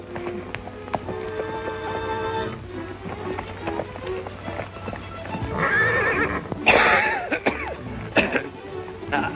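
A horse whinnies amid a busy outdoor scene in a 1937 western film, with hoof clip-clops and a cough or throat clearing mixed in, fairly close and moderately loud.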